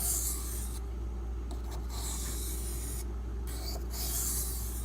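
A kitchen knife is drawn across a sharpening whetstone in alternating light strokes to break off the burr: quiet, close, rhythmic rasping that pauses briefly between passes, with no talking.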